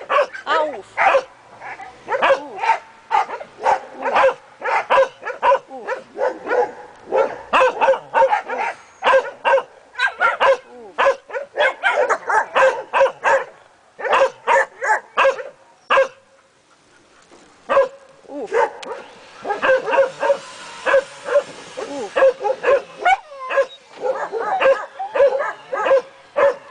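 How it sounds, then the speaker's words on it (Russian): Dogs bark and yip repeatedly in rapid, uneven bursts with brief whimpers, loud and close, with a short lull before the barking resumes; a voice speaks faintly underneath. "хорошие собаки, такие хорошие собаки"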